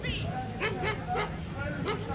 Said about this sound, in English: the dogs start instantly harassed, they keep barking consistently until told to be quiet.